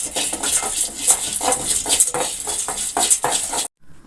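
Chana dal being dry-roasted and stirred in a pan, rapid repeated metallic scraping and rattling of a spoon against the pan, close and steady, ending in a short silence.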